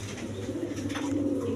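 Pigeons coo softly in a low, continuous murmur at a Bangladeshi pigeon seller's loft, with a faint bird call above the steady hum.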